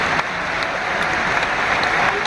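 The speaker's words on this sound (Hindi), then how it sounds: "जोरदार तालियां" A large audience at an appointment-letter ceremony for Delhi hospital nursing officers applauds loudly, a thick, unbroken roar of clapping that stays close and steady throughout.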